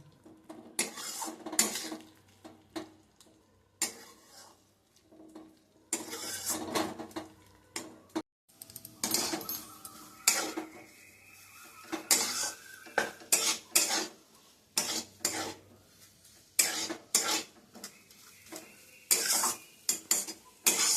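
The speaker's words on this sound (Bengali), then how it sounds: "এবার হালকা আঁচে মশলাটা ভালো করে ভেজে নিতে হবে।" Spice paste for sukto is fried in a kadai over low heat, with repeated metal spatula scrapes and clanks against the wok in bursts separated by short pauses, and only a faint sizzle between them.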